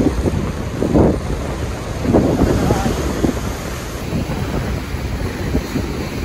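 Strong wind buffets the microphone at a beach during a morning seaside walk, with a steady roar of sea waves surging underneath in a loud, continuous wash.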